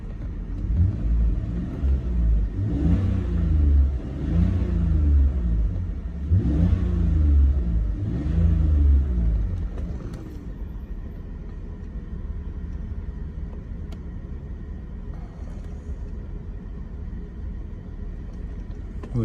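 A BMW E46 engine, one bank running very rich, is revved in a series of rising and falling vroom bursts, then settles to a steady idle rumble.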